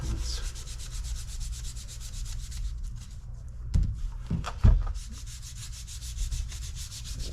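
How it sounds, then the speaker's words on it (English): Sandpaper rubs against the wood of a worn Enfield rifle in steady, rhythmic back-and-forth strokes, close and fairly loud, with a brief pause and a few knocks midway. "sandpaper time"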